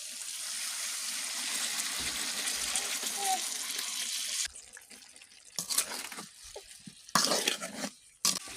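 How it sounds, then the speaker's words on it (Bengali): White vinegar pours into a pickle mixture with a steady liquid splash that breaks into short, uneven bursts toward the end; a voice speaks briefly. "এবার আমরা পরিমাণ মতো সিরকা দিয়ে দিচ্ছি সাদা সাদা সিরকা"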